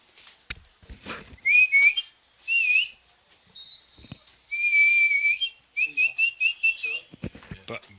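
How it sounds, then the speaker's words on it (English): A person whistles a series of short melodic phrases, some sliding and some rapid trills, close and clear amid faint background knocks and handling noise. "I can hear you whistling."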